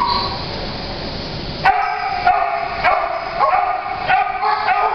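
A shelter dog barks in short, sharp bursts, several yips and barks spaced irregularly, close and fairly loud against a noisy kennel background.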